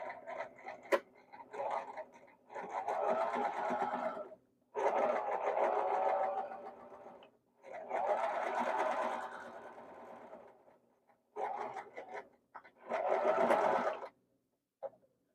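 A sewing machine stitches along the folded edge of fabric for Korean jogakbo patchwork with ssamsol seams, running in four distinct bursts of steady mechanical whirring separated by short pauses, close and clear with no talk.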